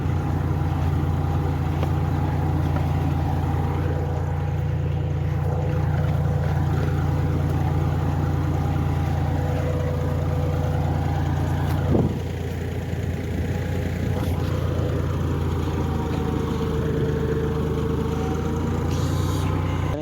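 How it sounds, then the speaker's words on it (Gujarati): A 4x4 tractor's steady low engine drone idles continuously on a farm field, close by and unchanging, with a faint rumbling hum filling the background throughout. "ટ્રેક્ટર આવી ગયું"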